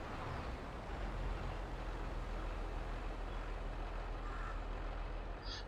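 Tractor engine idling in Farming Simulator 22, a steady low rumble that holds at an even level throughout without a break.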